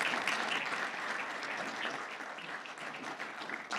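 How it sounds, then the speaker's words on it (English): An audience applauds steadily at a community morning gathering, a dense wash of clapping that holds evenly loud and fairly close for the whole stretch with no talk over it. "Let's have a round of applause for them."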